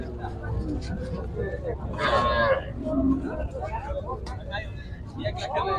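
Cattle at a livestock market before Eid, with one cow giving a brief low moo amid a constant hubbub of crowd chatter and distant voices.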